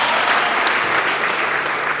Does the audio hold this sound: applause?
yes